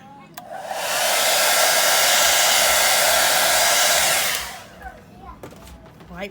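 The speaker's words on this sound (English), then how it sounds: "White blow with the blow dryer." A hair dryer roars on, blows steadily at high volume for a few seconds, then cuts off, leaving quiet room sounds.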